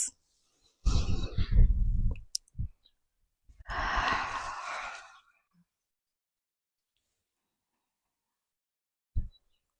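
Deep, audible breaths during a gentle Pilates exercise: a long exhale, then a second drawn-out breath a moment later, with a short puff near the end, all close to the microphone.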